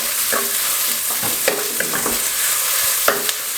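Marinated pork and garlic sizzle loudly and steadily in a hot pan, with a few soft scrapes and knocks of a utensil stirring them.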